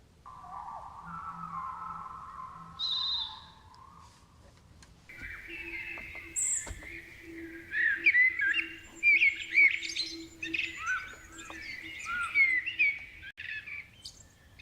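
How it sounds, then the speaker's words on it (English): Forest birds chirping and warbling as a played nature-sound track, a steady mix of many bright calls and trills, with a low hum in the background; no voices. "here's like 7 controllable nature sounds, starting with the forest birds"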